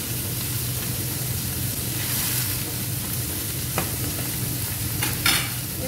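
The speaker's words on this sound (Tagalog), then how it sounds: "dahan-dahan guys na haluin ito" Risotto rice stirred slowly in chicken stock in a pan, a steady close sizzle and bubbling simmer with soft scraping of a utensil, occasional brighter clinks near the end.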